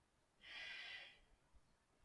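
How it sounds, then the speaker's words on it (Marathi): A single forceful exhale through the nose during a pranayama breathing exercise, a short loud breathy rush lasting under a second, heard alone and close up against a quiet room. "श्वास सोडा. पूर्ण श्वास सोडायचा आहे"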